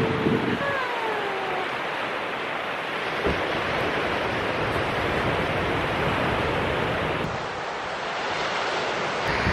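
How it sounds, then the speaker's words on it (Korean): Ocean waves wash steadily onto the rocky shore of Guam, a broad continuous surf roar mixed with wind noise, with a faint tonal sound near the start and no talk. "파도 소리 짱 좋죠."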